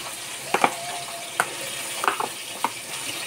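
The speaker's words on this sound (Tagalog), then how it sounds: "Nagpiprito. Nakakarusok yung mantika." Galunggong fish frying in hot oil in a pan, a steady close sizzle punctuated by scattered sharp crackles and pops.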